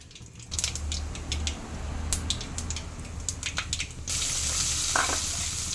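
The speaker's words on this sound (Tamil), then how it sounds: "சட்டி அடுப்பில் வச்சு கொஞ்சோண்டு எண்ணெய் ஊற்றி கடுகு போடுறோம்" Mustard seeds and urad dal fry in a little oil in a pan on the stove, giving close sizzling with scattered sharp pops and crackles, then a louder steady hiss near the end.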